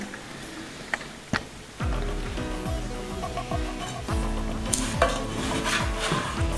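A thin Bulgarian pancake made with homemade eggs fries in a pan, quiet at first then a steady sizzle rises, with scattered clicks and knocks of a utensil against the pan, close and moderate in level, no voices.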